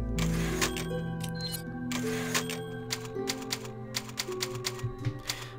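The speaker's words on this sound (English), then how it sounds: "We have ourselves a typewriter." Typewriter keys clack in uneven bursts over a steady musical backdrop in the video game Resident Evil 4, with a few sharper strikes toward the end.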